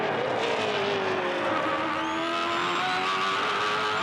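V8 Supercars racing side by side into the final corner at Bathurst in 2008, a loud continuous engine roar with rising and falling pitch and some tire squeal, no voices.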